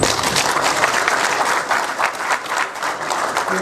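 Steady, loud applause from a crowd at an induction and inauguration ceremony in Kumasi, Ghana, dense clapping that continues without a break.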